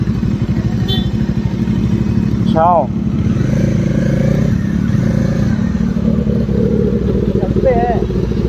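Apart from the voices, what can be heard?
big motorcycle engine running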